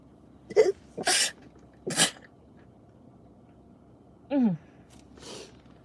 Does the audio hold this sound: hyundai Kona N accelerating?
no